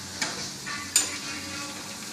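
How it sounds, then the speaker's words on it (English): Eggs fry over easy in a pan with a steady close sizzle, broken by two brief soft knocks, like a spatula touching the pan during the flip. "I usually eat my eggs over easy. So I'll flip it one time for about 30 seconds"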